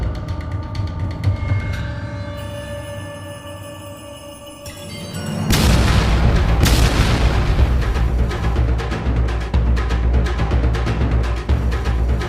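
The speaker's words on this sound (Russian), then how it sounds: "скинь эту петарду вообще-то в эту бочку" A cartoon firecracker thrown into a barrel explodes with a sudden loud boom after a few seconds of quieter music and effects, followed by a long rumbling, crackling tail.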